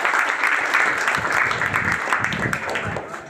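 A school crowd applauds at a ceremony honouring a matriculation student in Maniyar Mahamadipur, a dense, steady wash of clapping that continues throughout with some talk underneath.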